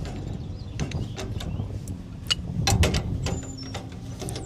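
Metal clanks, scrapes and ratchety clicks from a pipe wrench working loose a gas line union on a York gas package unit, irregular and close, with short sharp knocks and no talking.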